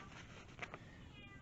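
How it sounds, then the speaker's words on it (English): A cat gives a short meow, quiet and close, with a second softer chirp just after it, set against a faint indoor background. "That's my cat talking to me"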